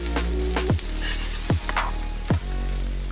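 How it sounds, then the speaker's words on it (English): Chopped green onions fry in about two tablespoons of olive oil, a loud steady sizzle with a few sharp pops and stirring scrapes. "we're gonna get them into our olive oil"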